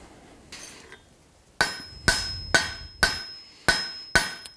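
A hammer strikes a hot mild steel punch taper on an anvil: about six ringing, clanging blows in a steady rhythm after a few lighter taps. Close, loud, no voices.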